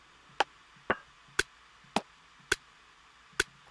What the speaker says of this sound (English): Let's try a whole different percussion sound.